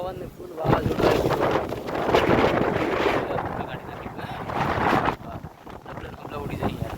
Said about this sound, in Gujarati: વાહ પવન ફૂલ આવે છે જબરજસ્ત વાવાઝોડું આવી ગયું છે